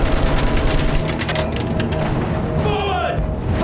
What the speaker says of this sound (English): a cacophony of explosions, planes, and gunfire